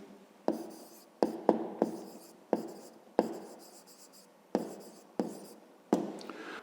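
Handwriting an answer with a pen on paper for a fifth-grade maths exercise: a series of sharp, close scratching strokes separated by short pauses, quiet and alone.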